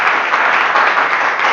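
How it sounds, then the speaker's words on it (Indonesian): An audience bursts into applause during an Indonesian teacher-training class session, a dense, steady patter of many hands clapping loudly from start to finish with no talking. "beri tepuk tangan dulu"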